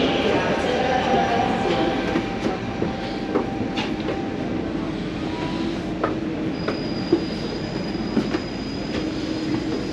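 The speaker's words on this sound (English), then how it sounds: "This is my train." At an Italian railway station, a train rumbles steadily nearby with scattered clacks and knocks, and a thin high squeal rises in the second half.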